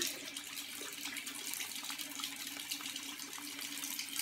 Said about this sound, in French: mettre un petit peu d'eau sur ses mains